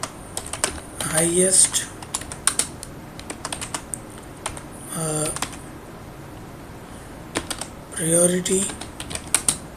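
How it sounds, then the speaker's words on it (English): Close, brisk typing on a computer keyboard comes in irregular bursts of clicking keys with short pauses, entering spreadsheet evidence, while a voice speaks intermittently over it. "So we are going to type here our evidence."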